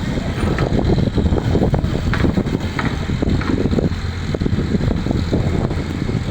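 On board a boat at Sikka port near Jamnagar: a continuous low engine rumble and wind buffeting the microphone, loud and steady with no talk.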